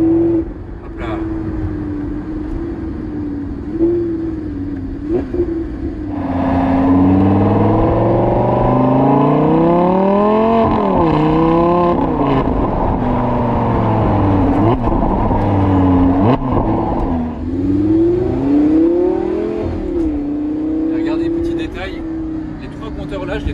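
The V10 of a Lamborghini Gallardo LP570-4 idles with a deep, steady burble, then swells into several loud rising and falling revs before settling back to idle, heard close with a voice talking over it.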